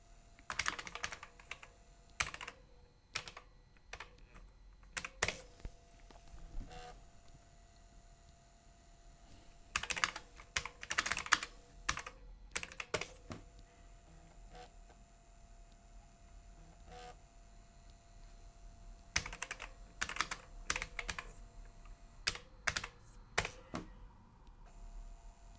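Typing on the keyboard of an Amstrad CPC 6128, an 8-bit home computer, with irregular bursts of crisp key clicks separated by pauses over about twenty-five seconds, fairly faint with a quiet background hum.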